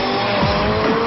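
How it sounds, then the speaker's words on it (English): A loud, high-revving turbocharged car engine roars continuously, with a rising turbo whine and a brief tire squeal layered over it. "In the movie, you can hear turbo noise."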